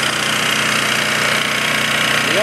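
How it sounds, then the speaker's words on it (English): An Onan single-cylinder diesel engine runs steadily and loudly up close, a dense, even mechanical drone with a constant rapid knock and no voices over it. "The Onan engine, single cylinder diesel. It's a real strong running machine."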